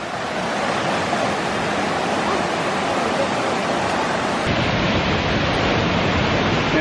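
Jackson River Falls roaring steadily as a dense, unbroken wash of falling water, loud and close, with no voices.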